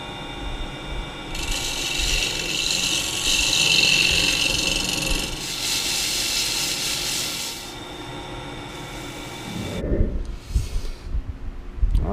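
A wooden ginger jar spins on a wood lathe while being sanded, giving a steady hissing, whirring rush with the motor hum underneath, before the lathe winds down and a few handling knocks follow.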